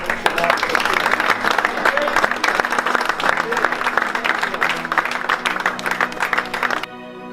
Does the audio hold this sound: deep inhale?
no